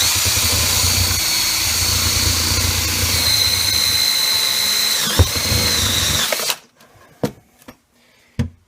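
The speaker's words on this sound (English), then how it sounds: "what we're going to do now is just drill a hole straight down through" A power drill runs loud and steady for about six seconds, boring a hole straight down through the floor for a propane cook stove line, then stops abruptly, followed by a few sharp knocks.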